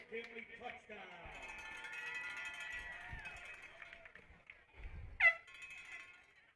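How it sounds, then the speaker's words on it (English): A lone air horn blasts once, briefly and sharply, amid thin crowd noise at a high school football game, with faint jangly tones suggesting cowbells beneath. "you hear some cowbells and a lone air horn"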